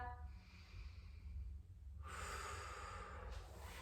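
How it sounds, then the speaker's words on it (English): Slow, deep breaths during a guided yoga flow, a long steady exhale followed by a fuller inhale, close and fairly soft, with no talking. "Deep breath."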